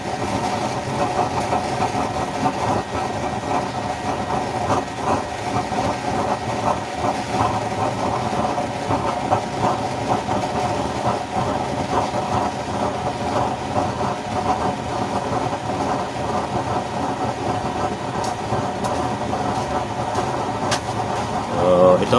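A homemade used-oil stove burner on a simple frame roars steadily and loudly throughout, a dense continuous rumble with a hum underneath, while someone talks over it.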